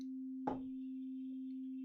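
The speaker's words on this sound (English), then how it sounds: "But this sine wave is a simple tone, meaning this is all that there is." A steady pure sine tone holds alone at one pitch throughout, briefly interrupted by a short soft burst of noise near the start.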